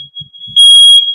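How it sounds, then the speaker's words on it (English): A household smoke alarm sounds one loud, steady, piercing electronic tone, preceded by a faint version of the same tone and a few soft low thumps. "My smoke alarms are going off."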